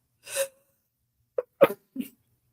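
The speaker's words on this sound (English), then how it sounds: "I think I'm going to sneeze." A single sharp sneeze, followed by a few short quiet breaths and sniffs in an otherwise silent room.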